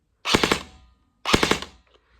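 A Delta Armory AR15 RIS Charlie airsoft rifle fires two short full-auto bursts, each a rapid rattling string of close, sharp pops, separated by a second of silence.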